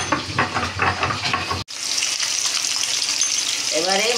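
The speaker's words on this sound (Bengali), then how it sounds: "এবারে এই মাছটা আস্তে আস্তে ভাজা হচ্ছে" Pieces of rohu fish fry in oil in a pan, giving a steady, broad sizzling hiss after a brief cut from an earlier busier sound, close and moderately loud, with no talk.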